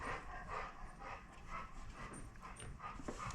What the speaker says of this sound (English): The elderly golden retriever pants a lot.